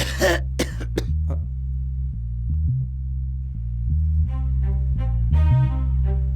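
A few sharp coughs at the start, then a steady low musical tone runs on, with a brief cough-like burst and a tonal flourish near the end.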